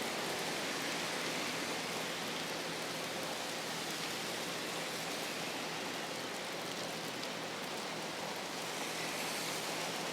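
Heavy rain pours steadily on North Bridge Road, a dense, even hiss of drops hitting street and surfaces all around, continuous and unbroken with no voices.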